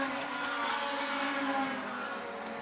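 Race cars roar around Wiscasset Speedway as a two-car breakaway battles for the lead, a steady blended engine drone held at close, even loudness throughout with no voices.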